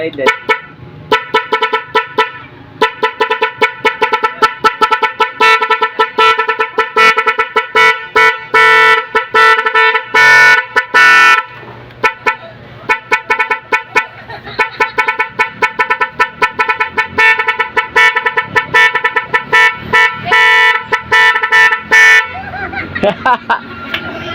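Nhay 3 Pro viral pop-pop horn fitted on an XRM 125 motorcycle, blaring loud, close tonal honks in rapid rhythmic bursts and stuttering patterns, with a few short gaps between sequences.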